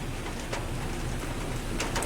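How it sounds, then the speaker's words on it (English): Steady rain falls outside, a soft, even hiss heard from indoors at low level, with a few faint drip-like ticks and no talking over it. "I don't know if you can hear it or not, but it is raining."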